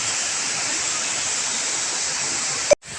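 Strong rushing water pours at Balaybayen Falls in the Philippines, a dense steady roar close by, cut briefly by a sharp knock near the end.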